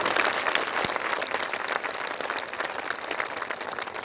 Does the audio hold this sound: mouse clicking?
no